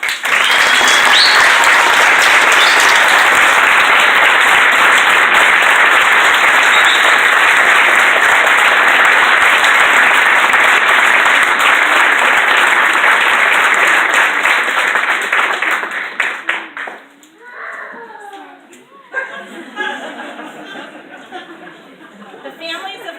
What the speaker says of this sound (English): Please join me in a round of applause to celebrate the accomplishments of these two Eagle Scouts.